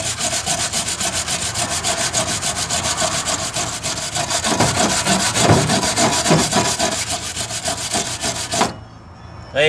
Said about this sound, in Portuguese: Então agora nós vamos dar uma lixadinha aqui pra melhorar isso aqui, pra não ficar feio.